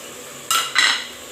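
Two quick metallic scrapes of a utensil stirring chicken with Royco and curry powder in a pan, close and bright against a low steady hum.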